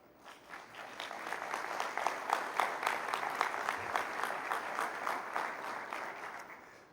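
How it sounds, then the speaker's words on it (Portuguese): An audience gives a round of applause at a faith-themed business talk. The clapping builds, holds for several seconds and then tapers off, sounding fairly distant and soft. "quando vocês aplaudem"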